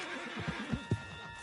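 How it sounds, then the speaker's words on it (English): A horse in Red Dead Redemption 2 gives a short, low whinny with snorting pulses over steady game ambience, close but fairly quiet. "Put Strauss on the back of John's horse and let's get out of here."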